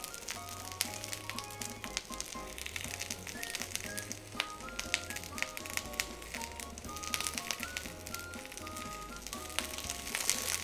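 Thin-sliced beef sizzling in a pan for sukiyaki, a steady crackling fry with sharp pops throughout, fairly soft, with low music underneath and no talk.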